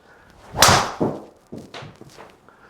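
A sharp, tinny crack of a TaylorMade golf driver striking a ball, followed by a few softer knocks and clacks.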